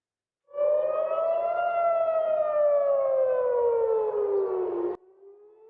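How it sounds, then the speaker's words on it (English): A civil defense air raid siren sounds over Jerusalem, a loud, sustained wail that rises slightly, then slowly falls before cutting off abruptly, leaving a faint lower tone. "siren sounding over Jerusalem earlier, sending people running for shelter"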